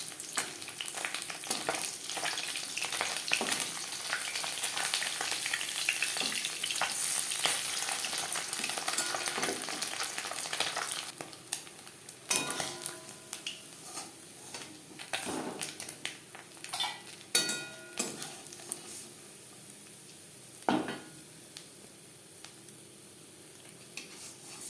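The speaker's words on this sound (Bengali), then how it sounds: "মাছ ভেজে নেওয়া হয়ে গেছে" Small bata fish fry in hot oil, crisped hard on both sides, giving a steady loud sizzle with sharp spatters and occasional clinks of a utensil, the crackle easing and turning more intermittent toward the end.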